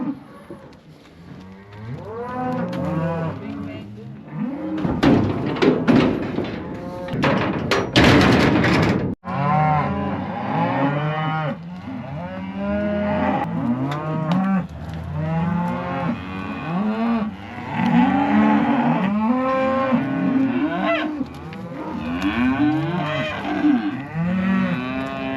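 Cattle moo over and over inside a brand new facility for working calves, with many overlapping calls near and far throughout. A burst of metallic clanging, like gates, comes partway through.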